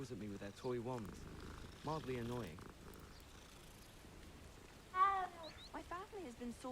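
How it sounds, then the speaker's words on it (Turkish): Cats in Hogwarts Legacy give odd, warbling meows over a low purring bed, several separate cries spread across the stretch with quiet gaps between, set against soft game ambience. "Abi bu kedilerin bu miyavlaması çok garip ya oyunda"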